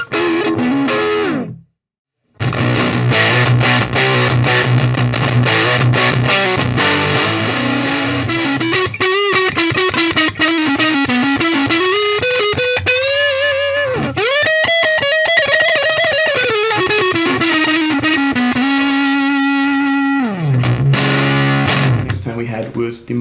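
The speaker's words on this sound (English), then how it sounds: "you can just get some great crunch sounds" A crunchy, distorted electric guitar played through a NUX Amp Force amp and cabinet simulator rings out in sustained chords and melodic bends, loud and continuous after a brief pause near the start.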